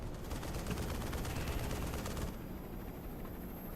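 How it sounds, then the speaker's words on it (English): Gunfire crackles in a dense, continuous burst of rapid shots, loud and close, running for over two seconds before cutting back to a quieter steady rumble. "What's that guy shooting at?"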